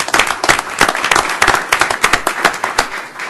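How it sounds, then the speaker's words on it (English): Applause from a small group at a county commissioners' board meeting, a round of clapping with distinct individual claps, fairly close and steady through the whole stretch. "A round of applause for Maury"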